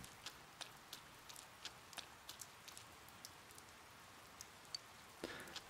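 Steady light rain in the video game Persona 4 Golden patters softly, with scattered drips tapping at an even, gentle pace throughout.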